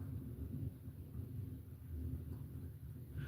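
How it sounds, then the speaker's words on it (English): Low, continuous thunder rumbles on and on during a storm, a deep muffled roll with no distinct cracks, heard alone with no talking. "I hear thunder."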